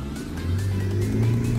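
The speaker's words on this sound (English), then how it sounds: "Good burnout there." A 2005 Renault Clio 1.2 16V Dynamique doing a burnout on the road, its engine revving and rising in a steady droning roar heard from inside the car.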